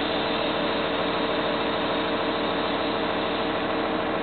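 A vehicle engine idles steadily with the transmission in neutral, a constant mid-low rumble with faint vibration, loud and close, no talk.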